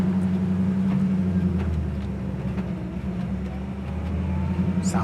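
A 1967 Chevy Camaro engine idles steadily with a deep, even low rumble, heard up close and alone, with no one talking.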